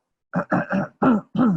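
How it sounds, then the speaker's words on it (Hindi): A person clears their throat in a quick series of short, rough bursts, five harsh rasping pushes close to the microphone. "बार बार उसको गला साफ करना पड़ता है"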